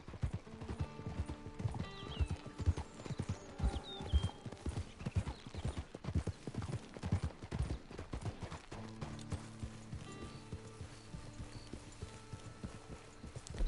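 Horse hooves clip-clop in a steady, even rhythm throughout a ride in Red Dead Redemption 2 Online, moderately loud over soft tonal game music and ambience.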